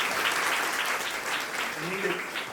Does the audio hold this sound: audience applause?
yes